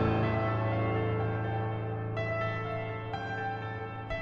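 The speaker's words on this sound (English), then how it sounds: "This is how piano sounds without any effects." A Studio Grand Addictive Keys grand piano plays sustained, ringing chords alone, dry and clear with no effects, with a couple of soft new notes struck near the end.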